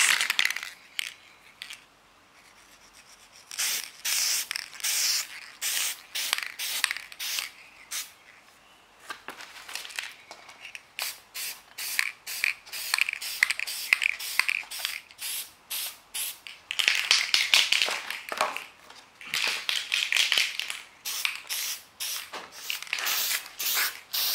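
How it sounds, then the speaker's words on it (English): A spray paint can hisses in repeated bursts, short and long, with brief pauses between them; close and fairly loud, with no talking. "So I'm going to start spray painting this."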